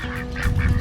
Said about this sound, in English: We gotta feed the little family of ducks over there too.